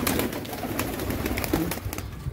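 Pigeons cooing and fluttering on a rooftop loft, a dense, steady chorus of close bird sounds with no talk over it.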